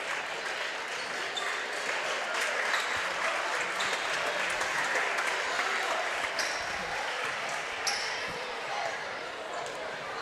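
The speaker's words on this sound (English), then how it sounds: "Mason Dayport goes out of the game and gets a nice round of applause from the hometown crowd" A hometown crowd at a boys varsity basketball game in Russia gives a round of applause as a player leaves the game, a dense, sustained clapping that fills the gym at steady loudness from start to finish.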